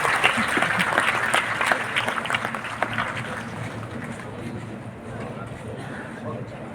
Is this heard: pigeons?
no